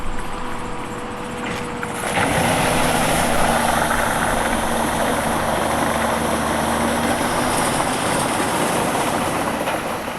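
A John Deere 6.8 liter diesel powering a Tigercat 822D feller buncher, running steadily at close range with a deep, continuous grunt that swells slightly after the first couple of seconds and holds on without a break.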